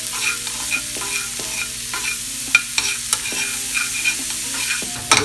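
Seasoned omelette ingredients are stirred in a sizzling pan, with a steady close fry hiss under scattered clicks and scrapes of the utensil against the pan.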